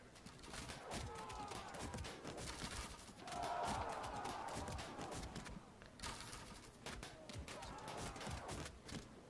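Volley of missile fire in the strategy game Field of Glory 2 during a battle at Ulai, a dense, continuous rattle and clatter of projectiles with a swelling burst in the middle, mixed with battlefield noise throughout.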